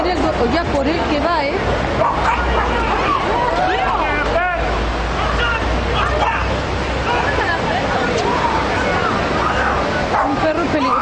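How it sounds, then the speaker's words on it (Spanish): A dangerous loose dog at a beach barks repeatedly in sharp, loud bursts, with several agitated people shouting and talking over it amid general outdoor crowd noise. "Un perro peligroso."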